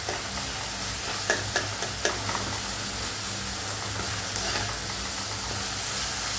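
A potato mixture sautés in a pan, giving a constant close hiss of frying with a few sharp spatula clicks early on and a low steady hum underneath.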